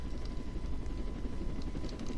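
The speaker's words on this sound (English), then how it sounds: "There's a police helicopter here now." A police helicopter in the Roblox Jailbreak video game gives off a steady, dense rotor and engine roar, loud and unbroken throughout with no talking.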